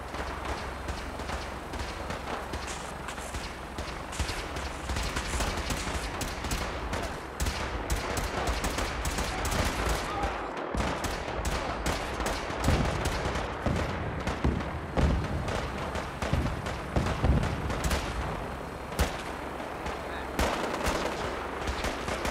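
Fallout 4 gunfire during the Battle of Bunker Hill, dense rapid bursts of automatic and single shots crackling continuously, near and loud, with scattered booms throughout.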